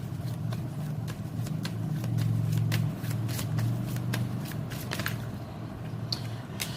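Tarot cards shuffled by hand, with a steady run of soft riffling clicks and flutters, close and fairly quiet over a low background hum.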